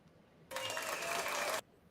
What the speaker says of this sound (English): Now you're clapping for yourself.